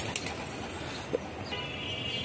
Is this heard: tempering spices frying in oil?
no